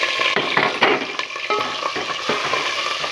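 Chicken pieces fry in masala paste in a karahi, a steady loud sizzle broken by scraping stirs of a spoon against the pan.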